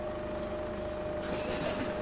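A bus braking at a stop in the OMSI driving simulator, with a steady engine drone and a sudden hiss of released air around the middle, fairly close and without talk.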